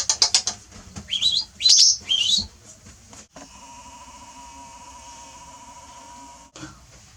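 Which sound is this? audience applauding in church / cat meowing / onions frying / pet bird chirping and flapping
pet bird chirping and flapping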